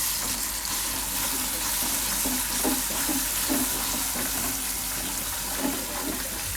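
Curd is stirred into a chilli mixture in a pan, with a continuous wet sizzle and occasional soft scraping as the spoon moves through, steady and close.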